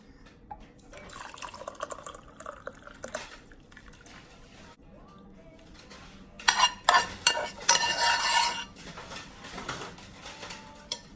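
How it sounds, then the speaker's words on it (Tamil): Water bubbling and churning in a pot, boiling down for a home cough and cold remedy drink, with irregular louder surges of rolling boil and some stirring noise, close by. "நல்லா கொதிக்குது."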